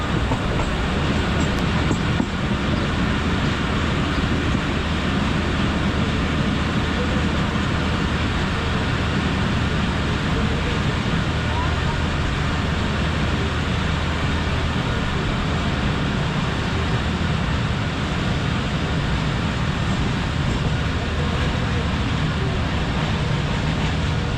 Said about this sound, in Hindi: ट्रेन रुक चुकी है गुजरांवाला रेलवे स्टेशन पे